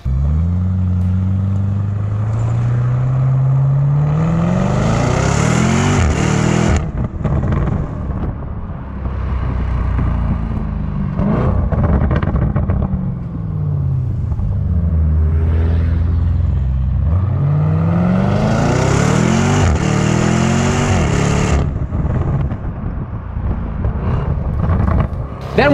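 Lamborghini Urus with a quad-tipped exhaust, loud and close, rising through two long revving sweeps with a deep rumble that falls back to idle between them, plus some wind buffeting.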